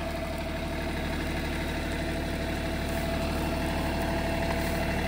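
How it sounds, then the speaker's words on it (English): A tractor's heavy diesel engine idles steadily, a constant low throbbing rumble that stays even throughout with no voices. "Make the tractor do all the work."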